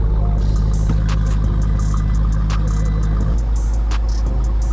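Hennessey-built Jeep Trackhawk runs steadily with a deep, loud engine drone, a constant low rumble throughout and a slight dip in pitch near the end, no talk heard.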